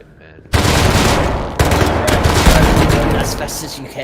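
Rapid automatic gunfire in the survival video game Rust erupts after a brief quiet start, with loud, dense bursts firing almost continuously and one short break near the midpoint.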